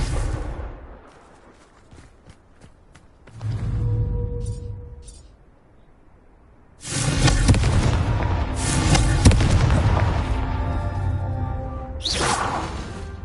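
Confringo blasting curse explosions in the Hogwarts Legacy video game, heavy booming bursts with whooshing tails, one burst near the start and a longer, louder cluster of blasts later, sounding close and loud.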